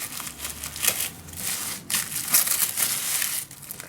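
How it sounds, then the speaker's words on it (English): Thin metallic tissue foil paper from a Daphne's Diary package being carefully unwrapped, with soft crinkling and crushing rustles in irregular bursts, close and fairly quiet throughout. "I love these tissue foils, and I always like to unwrap this as nice as I can."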